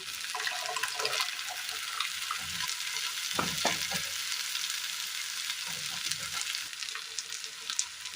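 Ground masala sizzles and crackles in a hot pan, with a brief burst of spattering as it goes in, then a steady fizz alone.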